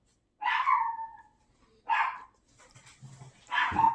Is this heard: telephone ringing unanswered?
no